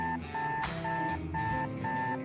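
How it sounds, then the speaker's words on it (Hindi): A synthetic alarm clock beeps in steady repeated bursts, four or five evenly spaced electronic tones over a dense, loud musical background. "उसका अलार्म क्लॉक खराब हो गया।"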